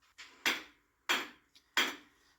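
Hammer blows on a stuck axle seized in the wheel bearing spline of a BMW X5: three sharp, ringing metallic strikes spaced about half a second apart, close and loud, with a faint tap between the last two.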